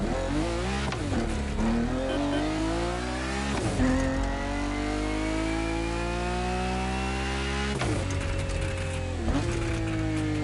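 A racing car engine in The Crew Motorfest revs and pulls away, rising through gears with repeated shifts, a sustained loud buzzing drone with pitch sweeps up and drops at each change, no talking.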